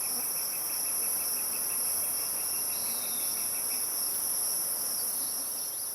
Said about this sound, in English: spring field crickets sing among waist-high dogbane shoots